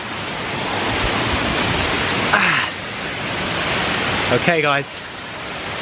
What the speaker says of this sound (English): Standing before me is a beautiful waterfall